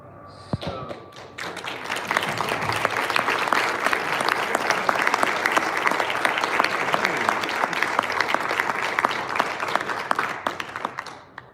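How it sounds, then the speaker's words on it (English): An awards ceremony audience breaks into sustained applause, a dense wash of many hands clapping that swells after a couple of seconds and holds steady, loud and close, with scattered thumps. "please give a round of applause to all the Latinos"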